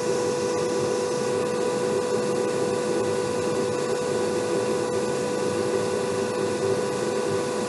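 Series-wound electric motor rated for 1,800 RPM running away unloaded at about 3,200 RPM on 60 volts, giving a steady, loud, continuous whine and hum that holds even throughout, with no talk.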